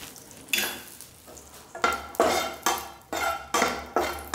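Raisins roasting in a little ghee in a pan, heard as repeated scraping stirs and clinks of a spoon against metal every half second or so over a soft sizzle, close and without talk.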